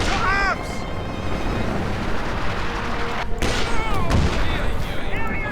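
MG-42 machine gun fire in the video game Company of Heroes 2, dense rattling bursts mixed with booms and other battle noise, continuous and loud beneath a commentator's talk.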